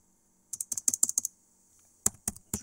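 Typing on a computer keyboard: a quick burst of about nine crisp, close keystrokes, a short pause, then three or four more taps, with no talking.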